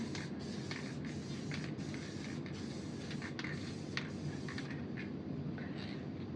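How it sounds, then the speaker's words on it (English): Hissing aerosol spray of glue from a spray can onto mini-signs, in a run of short repeated bursts, close by and fairly steady, with no voices. "And when you spray them, you want to spray like just enough"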